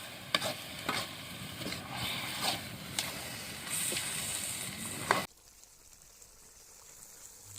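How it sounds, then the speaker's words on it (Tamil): Tomatoes sauté in a pan over a village cooking fire, a steady sizzle with repeated scraping stirs for about five seconds before the sound drops to a faint hiss. "ஸோ தக்காளியை போட்டு நல்லா வந்து தக்காளி குழையிற வரைக்கும் நல்லா வதக்கி எடுத்துக்கணும்."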